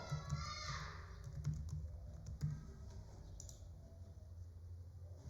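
Rapid clicking of a computer keyboard as text is typed into a table cell in a Microsoft Word document, close and fairly quiet, with irregular keystrokes throughout.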